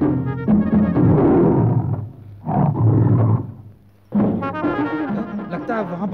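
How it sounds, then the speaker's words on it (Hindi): Tiger roaring: loud, deep growling roars in several bursts with brief pauses between them, close and dominant. "लगता है वहाँ बाघ है"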